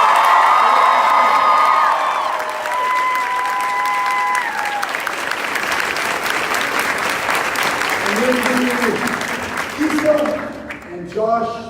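A large audience at a William & Mary rally claps and cheers loudly for a congresswoman, a sustained wash of applause with whoops that fades, while a voice begins speaking near the end.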